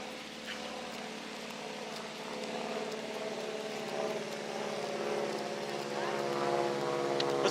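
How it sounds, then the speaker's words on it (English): A small propeller plane drones overhead, a steady harmonic buzz that grows gradually louder across several seconds, heard outdoors at a distance. "Oh, small plane. It's a prop plane."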